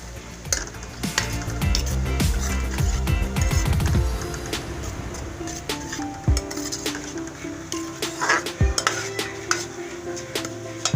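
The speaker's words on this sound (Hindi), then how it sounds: "और ये लहसुन अदरक का पेस्ट," Garlic-ginger paste fries with onions in a pan for palak chana daal: a loud sizzle under rhythmic stirring that thins out, followed by sharp metallic clinks of spoon against pan.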